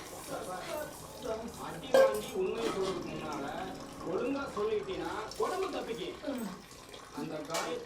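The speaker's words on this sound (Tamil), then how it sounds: "ஒரு 5 நிமிஷம் பாத்திரம் கழுவிட்டு வந்துடுறேன்" Water runs while dishes clink and scrape together in a sink, with people talking over the clatter throughout.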